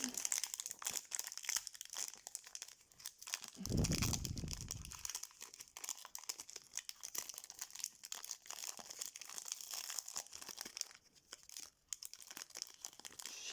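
A Pokémon booster pack from the Silver Tempest set is torn open, its foil wrapper crinkling steadily throughout with a louder, fuller rip near the middle, close and without any talking.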